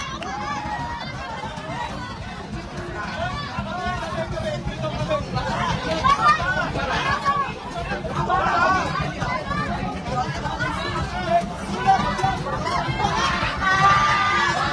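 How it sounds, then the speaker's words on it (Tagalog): A large crowd in the streets of Malabon shouts and cheers for Diwata at a sagala procession, a dense, continuous roar of many voices with excited shouts rising above the babble throughout. "Ayan, mga sigawan dito."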